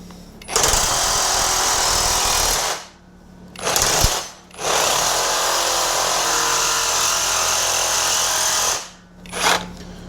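A power tool cuts through a metal bar clamped during an ATV lift upgrade, a loud, sustained harsh buzzing cut in three runs with brief pauses between them.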